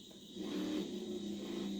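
A KTM motorcycle engine revs in the racing video game The Crew, a brief, faint rising buzz that steadies into a sustained hum, with no talk.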